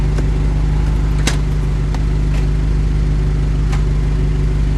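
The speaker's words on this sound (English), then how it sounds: "we can hear my muffler reverberating off the wall here" A car's muffler exhaust rumbles steadily as it reverberates off a nearby wall: a continuous, fairly loud low drone with a few faint clicks over it and no speech.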